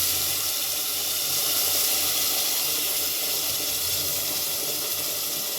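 Curry leaves spluttering in hot oil while cooking a horse gram sprout curry, a steady dense hiss and sizzle that holds evenly close by with no voices.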